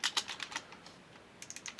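Quick keystrokes on a computer keyboard, a burst of taps, a short pause, then another run of clicks, close and clean with no voice.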